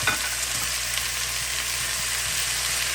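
Sausage, potatoes and a tablespoon of minced garlic sauteing in a pan for gumbo, a steady, close, dense sizzle holding even throughout with faint stirring and no talk.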